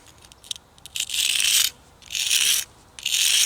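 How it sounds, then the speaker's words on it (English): A slate spearhead is ground by hand against an abrasive surface in three long rasping strokes, each following a few short scrapes. The harsh gritty rubbing is close and loud, with quiet gaps between strokes. "grind this by hand. Till I get the shape that I'm looking for."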